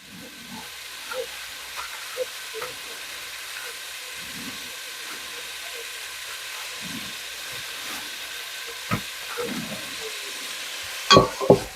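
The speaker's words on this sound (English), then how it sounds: "We'll get these onions and this jalapeno sweated down" Onions and a whole jalapeno sweat down in a pot with a soft, steady low hiss, broken by faint scattered clicks and a few louder knocks at the end.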